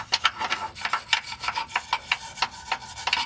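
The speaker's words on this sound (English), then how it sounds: "I'm going to take a copper wire brush, and we're going to go ahead and just clean out all the rust" Rapid back-and-forth scrubbing of a copper wire brush against a rusty lower control arm mount on a Toyota Celica, close and rhythmic, with about three scratchy strokes a second and no talking.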